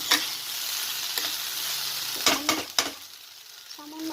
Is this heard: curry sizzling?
yes